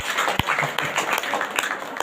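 Continuous crowd applause at a Sunday prayer meeting, a steady wash of many hands with a few sharper claps standing out near the listener.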